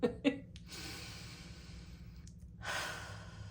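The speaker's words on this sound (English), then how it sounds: "Let me take a breath." One person draws a long, deep breath and then lets it out slowly, soft and close in a quiet room, preceded by a couple of brief mouth sounds.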